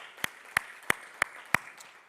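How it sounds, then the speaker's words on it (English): Five sharp hand claps spaced evenly about a third of a second apart at a business education conference, fairly quiet and with no talk over them. "Give them a round of applause."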